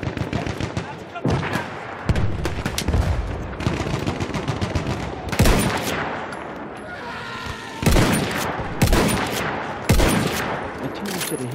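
Battlefield 1 gunshots and bursts of automatic fire fill a chaotic First World War battle, loud cracks and rattling volleys repeating irregularly over constant combat noise.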